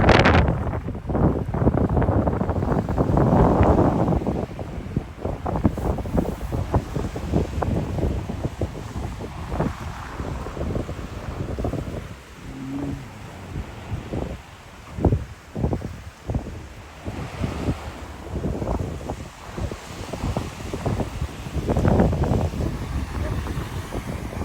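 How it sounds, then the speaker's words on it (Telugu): Strong wind buffets the microphone at St Kilda Beach, Melbourne, a loud continuous roar and rumble that swells and eases, with surf and open sea air behind it. "గాలి శబ్దం అర్థమవుతూ ఉంది కదా, సో బాగా చల్లగా ఉందన్నమాట."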